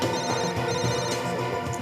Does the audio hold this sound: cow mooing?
no